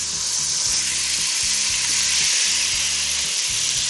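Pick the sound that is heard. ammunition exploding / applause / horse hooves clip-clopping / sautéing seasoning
sautéing seasoning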